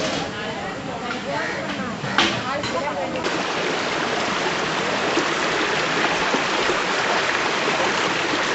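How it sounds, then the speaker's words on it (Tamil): A forest stream flows steadily in a dark woodland, its continuous broadband rush holding a constant level with a brief splash partway through. "நாங்க ஒரு ஓடையை கண்டுபிடிச்சிட்டோம்."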